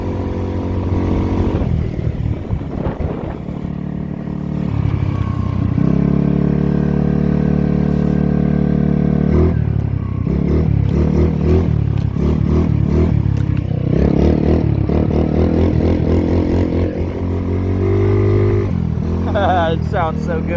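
An X-Pro 150cc Bali motorcycle engine runs up close, droning steadily and rising and falling through repeated revs, loud throughout.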